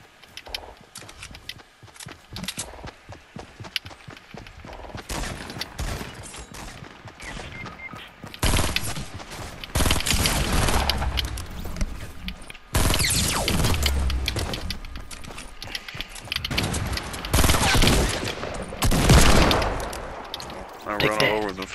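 Fortnite match gunfire, sparse shots at first building into long, loud sustained bursts of automatic fire, with a voice talking at times.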